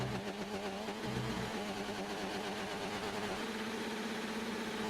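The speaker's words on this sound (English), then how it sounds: "The wobbly car sounds are back." Wobbly, warbling car engine drone in F1 2019 spectator mode at Bahrain: a steady, buzzing mid-pitched engine hum that wavers unevenly throughout, loud and continuous with no talk.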